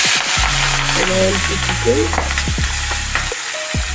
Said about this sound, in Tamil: நம்ம வந்து தனியாக பிரண்டை வதக்கிக்கலாங்க.